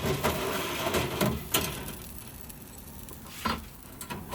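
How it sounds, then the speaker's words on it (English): Potato slices tossed in olive oil, salt and pepper sizzle on a Big Horn 1500℉ infrared steak grill, a faint hiss broken by a few soft clicks and scrapes. "I grilled the potatoes for 2 minutes per side until they got some color and char"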